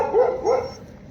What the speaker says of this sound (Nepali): यता कुकुर छ त मलाई लास्टै डर लाग्छ यार